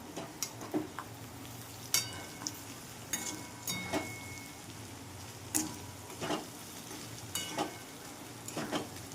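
Bitter gourd pieces cooking in oil in a pan with coriander seeds and peanuts, a steady close sizzle broken by repeated sharp scrapes and clinks of stirring.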